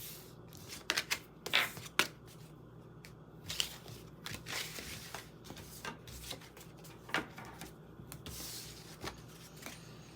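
Oracle cards shuffled by hand in a quiet room, a run of soft crisp riffles and flicking snaps coming in uneven bursts, fairly close, with no voice over them.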